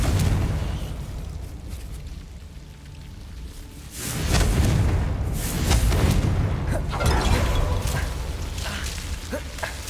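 Booming magical blast from the Bombarda spell in the video game Hogwarts Legacy, a loud broadband burst swelling up midway and rumbling on amid a dense clamor of game effects.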